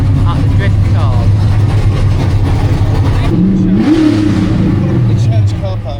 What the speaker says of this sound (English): I can hear a lot of noise at the drift cars